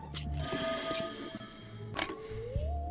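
A telephone rings inside the video game There Is No Game, with repeated bursts of ringing over a low electronic hum and scattered game sounds.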